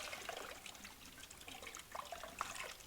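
IPA DRYCON concrete block sealer being poured into a bottle, a faint continuous trickle of liquid with small splashy fluctuations, quiet and close.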